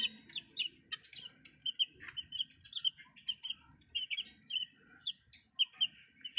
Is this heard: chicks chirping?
yes